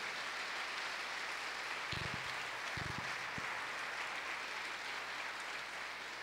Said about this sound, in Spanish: pues déle un fuerte aplauso al Señor